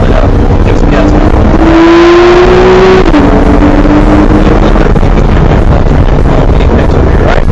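A sports car engine on a racetrack at MSR Houston revs hard and loud, its pitch climbing steadily then dropping briefly at a gear change before rising again, with wind buffeting throughout.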